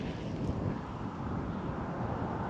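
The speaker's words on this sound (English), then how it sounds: "It's super windy out here." Strong wind buffets the microphone outdoors on a fishing trip by the water, a steady low roaring rumble that fills the whole stretch with no letup.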